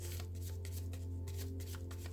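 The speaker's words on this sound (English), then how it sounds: "All cards have been shuffled and blessed with good intentions." A deck of cards is shuffled repeatedly up close, giving quick riffling bursts in an uneven rhythm over a steady low background hum.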